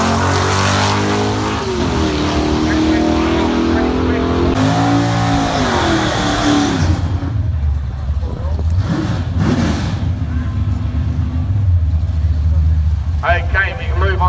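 A drag car with a four-speed top loader manual gearbox accelerates at a street drag event, its engine revving through gear changes over steady loud track noise while a commentator talks throughout.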